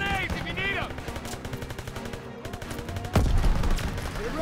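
Sustained gunfire from the Call of Duty WWII campaign, a dense run of rapid shots laying down suppressive fire close by, swelling louder near the end, with a voice shouting over the battle.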